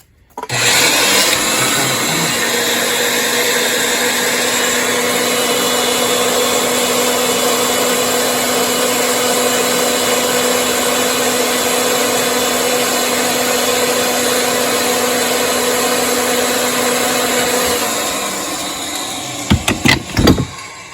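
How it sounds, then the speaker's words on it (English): A pipe threading machine runs in reverse during a heating system repair in an old New England home, a loud, steady motor whine and hum that starts abruptly, holds for about seventeen seconds, then winds down, followed by a few sharp clanks. "you put the machine in reverse"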